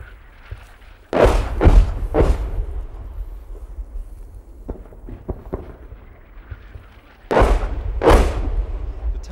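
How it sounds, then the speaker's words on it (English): Distant British artillery guns and mortars strike Taliban positions in Helmand Province, Afghanistan, giving two paired clusters of heavy booming thuds separated by a quieter stretch with faint scattered knocks. "British guns, then mortars hit the Taliban positions."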